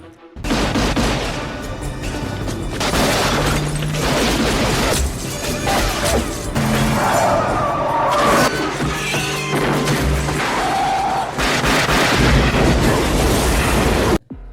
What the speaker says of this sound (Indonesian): ia menabrakkan motornya ke sebuah kendaraan hingga menyebabkan ledakan besar.